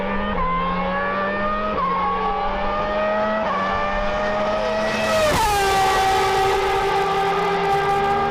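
An Aston Martin Valkyrie hypercar with a 1160-horsepower engine screams at high speed, its loud, high-pitched engine note climbing through repeated gear shifts before rising sharply again near the end.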